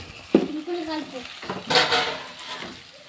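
Potatoes and onions frying in a pan are stirred with a utensil, giving scraping clatters and a soft sizzle in two bursts, with a voice faintly audible in the background.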